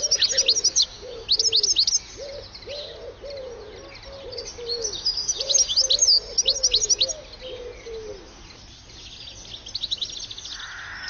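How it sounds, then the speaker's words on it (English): A goldfinch chirps and sings in quick, twittering bursts of high notes, with lower cooing calls from another bird repeating steadily beneath, all fairly close in an outdoor setting. "The goldfinch is attractive and acrobatic."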